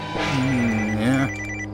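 A phone rings with a single loud electronic tone lasting about a second, close by and with no talk.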